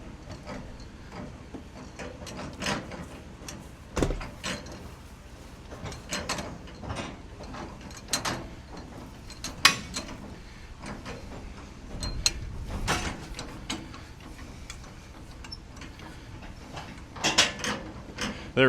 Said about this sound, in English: now we're gonna have to get to cranking. You can see it going down in there.